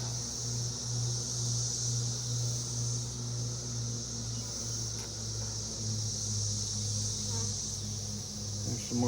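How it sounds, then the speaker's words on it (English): Honeybees buzzing in and around an open nuc hive box during a hive inspection: a continuous, close, droning hum with steady tonal layers that hold throughout at moderate level. "Lots of bees in this box."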